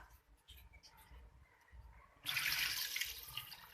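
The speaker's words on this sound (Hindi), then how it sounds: "ये हमने डाल दिया इसके अंदर पानी।" Water poured into a pot of beef karahi, a steady splashing pour starting abruptly partway through after quieter handling sounds, moderately close.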